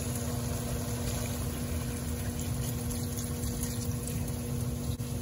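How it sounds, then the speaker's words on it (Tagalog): Water runs steadily into a pot of pork adobo, a constant rushing pour over a low hum, with no talking. "Maglagay tayo ng tubig."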